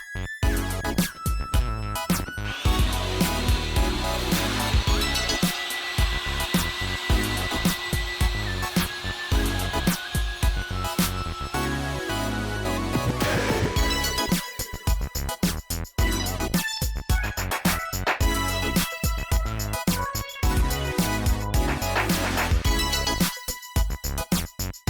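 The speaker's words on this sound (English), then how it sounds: "get the vacuum cleaner, put the attachment on backwards, and blow all this crud away" A loud, continuous motor roar of a vacuum cleaner blowing air, with shifting whine and rushing noise, running close and unbroken for the whole stretch.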